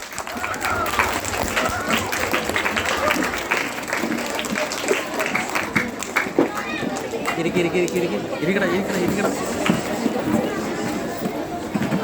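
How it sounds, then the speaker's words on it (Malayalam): A school audience stands and claps to welcome the school manager, a dense, continuous patter of many hands under chatter and the bustle of people rising. "അച്ഛനെ ഏവരുടെയും പേരിൽ നമുക്ക് എഴുന്നേറ്റ് നിന്ന് കൈയടിച്ച് സ്വാഗതം ചെയ്യാം."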